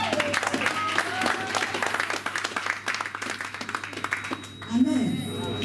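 A church congregation at a thanksgiving service claps steadily throughout, moderately loud and continuous, with a sustained hum and a short rise in volume near the end.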